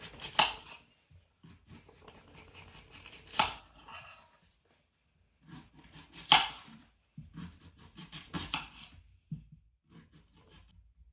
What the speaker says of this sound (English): First thing we're going to do is cut this onion up into some slices.